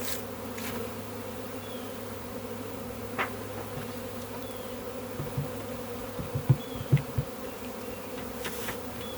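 A dense, steady drone of a swarm of honeybees buzzing close by, with a few soft knocks and clicks toward the end.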